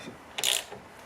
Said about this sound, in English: 11mm socket, here we go.